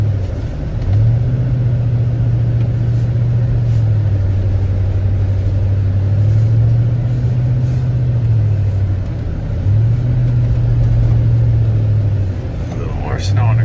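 A 2007 Chevy Suburban Z71 truck drifts and power slides on snow, its engine droning in a steady rumble that swells and dips in pitch as the throttle rises and falls, heard close from inside while someone talks.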